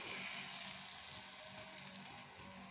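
Dried red chillies fry in hot oil in a kadai with a soft, continuous sizzle, fairly faint and steady throughout, with no talking.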